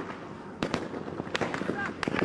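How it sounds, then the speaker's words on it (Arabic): Bursts of gunfire crack repeatedly at Aden airport after an explosion inside the terminal hall, sharp reports in uneven clusters, heard under agitated voices. "الانفجار داخل الصالة، في إطلاق نار أيضا"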